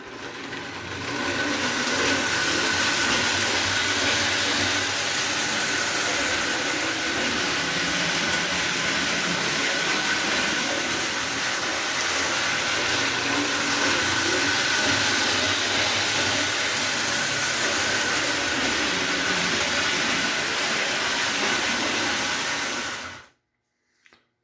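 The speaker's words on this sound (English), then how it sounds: "So here it is, 2 years later, a restored Hoge Streamline 900." A restored Hoge Streamline 900 model train with a replaced motor pinion gear runs around its track with a constant whirring, buzzing motor drone that holds steady for over twenty seconds, then cuts off.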